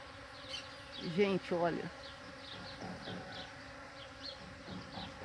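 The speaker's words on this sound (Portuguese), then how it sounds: "Tem abelha de todo jeito aqui, ó. Tem abelha sem ferrão. E tem essas abelhas... É, Europa, né?" Stingless bees and European honeybees buzzing around flowering ora-pro-nobis, with a few close, louder buzzes passing by among fainter humming while someone speaks briefly.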